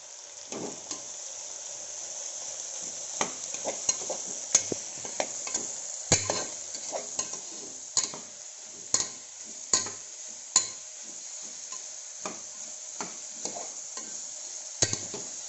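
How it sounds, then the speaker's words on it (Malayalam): Onion and garlic sauté in hot coconut oil for a beef biryani, a steady close sizzle broken by sharp scraping clicks as a spatula stirs the pan, with no talking. "വെളിച്ചെണ്ണ നല്ലോണം ചൂടായി വരുമ്പോൾ നമ്മളതിലേക്ക് സവോള ഇടുക"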